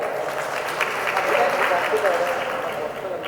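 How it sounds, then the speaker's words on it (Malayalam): A reunion audience of a 1978 school batch applauds together in a hall, a dense, steady wash of clapping from many hands that holds at an even level. "എല്ലാവരും കൈയടിച്ച് പാസ്സാക്കണം"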